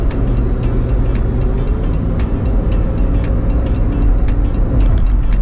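Steady highway traffic on Interstate 5 through the Grapevine in California, heard from a vehicle towing a trailer amid slow-moving cars and big rigs; a continuous loud low road and engine rumble with tire roar throughout, no talk.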